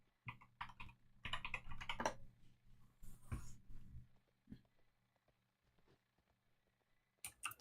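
Someone types on a computer keyboard, close and clear, in quick clattering bursts that thin out into scattered single keystrokes before a final short flurry.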